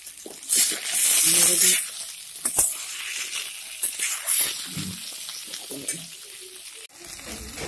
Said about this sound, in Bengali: সবজিটা ভাজা ভাজা হয়ে গেছে।